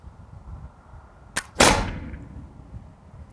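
A single gunpowder pistol shot cracks out loud and close, preceded by a brief sharp click, with a short ringing decay afterward in an otherwise quiet space.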